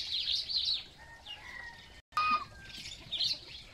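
Rescued Chinese geese, a breed with a large knob on the head, give a few short honks and calls at moderate distance, with a brief gap between bursts and no talking.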